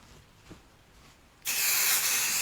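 Spray can releasing a steady, loud hiss of spray for about a second, held down continuously after a quiet stretch of faint room noise.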